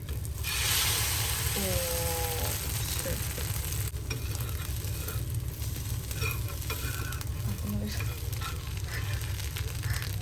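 An egg frying in a pan at home, a steady close sizzle with scraping and clinking from stirring or turning, with faint voices in the background.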